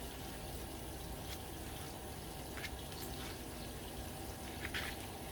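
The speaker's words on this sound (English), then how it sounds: "I have some water running over here to my right as well, and that's just running some hot water down the drain" Hot water running from a kitchen tap down the drain, a steady broadband rush with faint drips and splashes, continuous and moderately quiet throughout.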